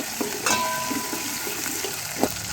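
Onions, green chilies and curry leaves fry in hot oil for Andhra sambar, a steady hiss with occasional clinks of a spoon stirring the pan, close and continuous.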